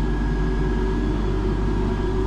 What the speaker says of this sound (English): I can hear the dyno start